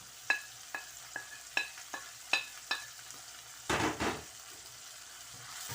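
Spices for murgh chana dropped into a hot pan, giving a string of sharp sizzling crackles followed by a louder burst of frying hiss, heard close with no talk.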